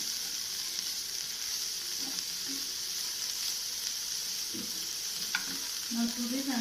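Capsicum for veg momos sizzles in a hot pan, a constant bright frying hiss with occasional scrapes and clinks from stirring and brief low murmurs underneath.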